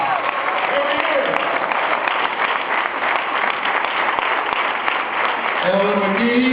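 Sustained clapping fills a Baptist church as the congregation honors an elderly elder, even and dense throughout, with voices speaking over it near the end.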